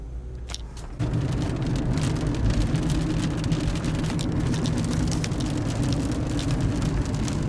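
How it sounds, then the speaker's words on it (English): Rain starts falling onto a car and is heard from inside the cabin, rising after a second into a dense, even patter that keeps going with no one speaking. "it's freaking starting to rain now"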